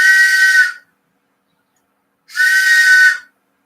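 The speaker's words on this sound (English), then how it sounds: "It's a train whistle." Two loud, steady blasts of about a second each from a souvenir train whistle from Niagara Falls, blown by mouth, separated by a quiet pause, with a bright, breathy multi-tone chord like an old steam locomotive.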